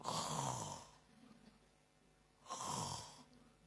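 A preacher mimics snoring with his voice in a church prayer service, making two long, raspy inhaled snores separated by a pause, close and clear.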